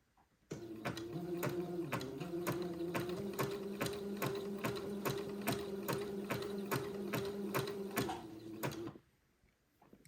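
A sewing machine stitches a baby quilt with a steady, fast mechanical whir and evenly spaced needle clicks, running continuously for about eight seconds close up before stopping abruptly.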